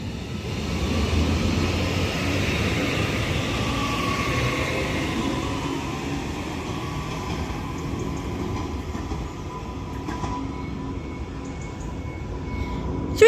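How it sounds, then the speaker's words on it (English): A Northern Class 331 electric train departs East Didsbury station on the Styal Line, a steady rumble and rising electric whine that slowly fades as it pulls away, with a short clatter near the end. "departs East Didsbury now with the 1415 Northern service to Manchester Airport, heading down the Styal Line to its next stop of Gatley"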